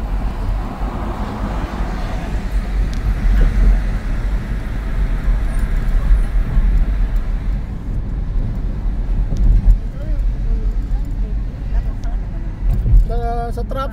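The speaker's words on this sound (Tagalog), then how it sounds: "May traffic." City traffic around San Francisco's Pier 39, a continuous rumble of cars and buses passing nearby, with a sharper mechanical clatter near the end.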